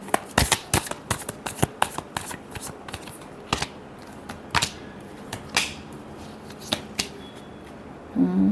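Tarot cards being shuffled by hand, a run of sharp, crisp riffling snaps at an irregular rhythm, close and fairly loud, with no talk over them.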